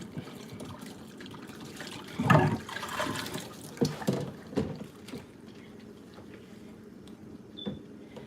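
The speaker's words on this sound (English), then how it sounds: "I just have to wash up a couple dishes." Tap water runs and splashes in a kitchen sink while a few dishes are washed, with irregular bursts of clatter and gurgling at moderate loudness.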